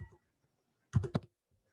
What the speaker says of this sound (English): some problem with the command I'm typing, so I'm typing it again